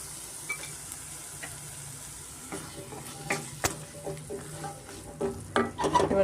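Boiled kabuli chickpeas are stirred into oil-fried masala for chana masala, with a soft steady sizzle and repeated spoon scrapes and taps on the pan, the stirring growing busier and louder toward the end.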